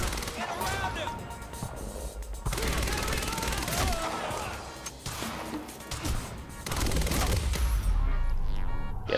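Gunfire in the video game Quantum Break rattles in dense, loud bursts with crashes and impacts, while voices shout over the shooting.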